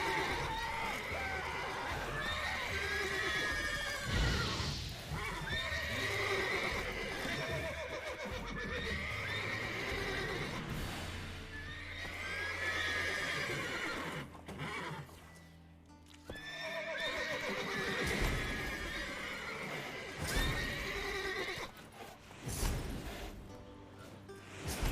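Horses in Witcher 3 neigh and whinny repeatedly over clip-clopping hooves, loud and close, several calls spread across the stretch with little talk.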